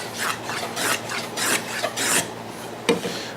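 Hand plane shearing across wood end grain while chamfering and curling off thin shavings, heard as a series of close, raspy strokes in an even rhythm without talk.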